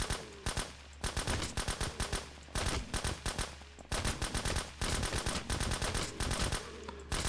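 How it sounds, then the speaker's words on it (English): Rapid bursts of AK rifle fire in the video game SurrounDead, loud, sharp shots in several sustained strings separated by short gaps, with no talking. "we'll use the not silent AK"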